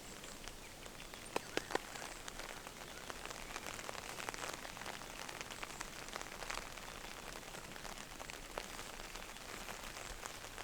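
Spring rain falls softly and steadily over a vegetable garden, a quiet, even patter with a few sharper drips early on and no talking.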